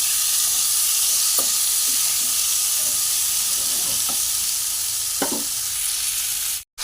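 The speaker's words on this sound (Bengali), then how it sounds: "এবার আমি ফুলকপিগুলোকেও আমি এর মধ্যে দেখুন বন্ধুরা, আমি এবার একসাথে ভালো করে কষিয়ে নেব।" Potatoes and cauliflower sautéing with spices in a pan for a Bengali aloo fulkopi, a constant close hissing sizzle with occasional soft scrapes of stirring, ending in an abrupt cut.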